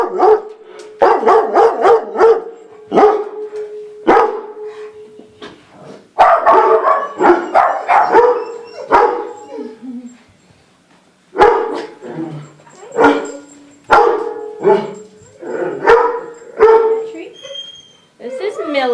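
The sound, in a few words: dogs barking and whimpering at a shelter kennel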